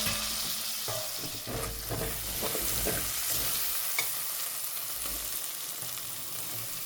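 Spiced prawns for a prawn biryani fry in a pan with a steady close sizzle, broken by scraping stirring sounds throughout and no talking.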